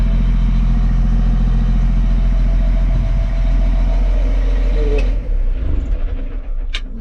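A John Deere forage harvester's large diesel engine idles steadily and loudly close by, a deep even rumble that drops off near the end.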